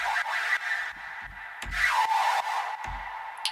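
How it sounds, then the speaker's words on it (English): A synth run through a vocoder with pitch automation in a dream hardcore / modern gabber production gives a noisy, gritty, rasping texture with sweeping pitch glides, punctuated by deep kick-like thumps, loud and close with no talking. "With the vocoder, sounds like this."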